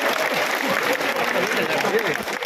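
Applause greets an MLA at a BJP candidate's election office gathering, a steady patter of clapping from a crowd, with a voice speaking over it.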